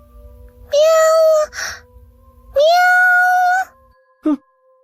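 Two drawn-out meows, close and loud, in a quiet night setting, voiced in a high tonal way that suggests a person imitating a cat, followed by a short thump.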